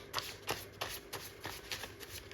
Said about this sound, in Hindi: मैंने ना आज ये कार्ड सारे मिक्स कर दिए हैं